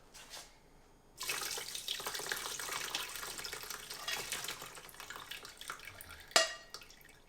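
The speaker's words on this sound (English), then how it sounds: "I'm just gonna pour it through the sifter over this and into the actual batch" Herbal liquid is poured through a sifter into a batch, a steady close splashing stream running for several seconds before trailing off, with a brief clink near the end.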